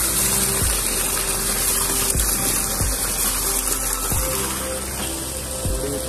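Pure spring water pours and gushes steadily near a fish temple at Machhiyal, Himachal Pradesh, a continuous rushing wash with occasional low thumps underneath and no voices.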